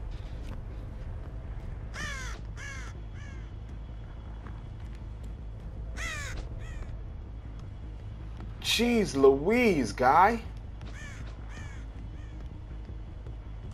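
Crows caw in Dead by Daylight: a few faint calls early, then a loud, close burst of harsh, repeated caws around the middle, with someone talking over parts of it.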